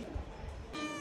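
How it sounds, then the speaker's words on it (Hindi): A cat meows twice in quick succession, close by, the second call higher and more drawn out. "ये देखो हमारी प्यारी बिल्ली।"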